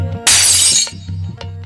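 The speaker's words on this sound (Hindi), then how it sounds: "शीशा टूटे" Glass shatters in one loud, bright crash that rings briefly and fades, with a low steady musical tone playing underneath before and after.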